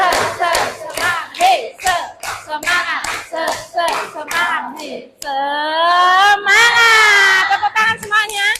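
A class of children does rhythmic 'tepuk semangat' spirit clapping, sharp claps in a quick patterned beat alongside loud group chanting, ending in a sustained shouted cheer.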